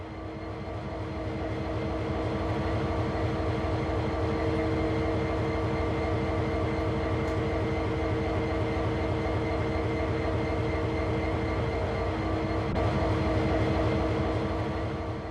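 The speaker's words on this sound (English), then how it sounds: "Climb aboard this locomotive and we'll get started." A diesel locomotive in the Train Sim World 2 railway game, running with a steady throbbing engine drone and rhythmic low pulsing, heard from the cab and holding constant for the whole stretch.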